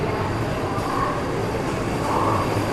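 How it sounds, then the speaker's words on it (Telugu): Visakhapatnam–Secunderabad Vande Bharat express running through Kazipet Junction without stopping, a steady loud rumble and rush of the passing train sustained throughout, with no talk. "ఇప్పుడే మనకు వచ్చేసి విశాఖపట్నం సికింద్రాబాద్ వందే భారత్ ట్రైన్ అయితే కాజీపేట జంక్షన్ స్కిప్ అయితే కొడుతుంది"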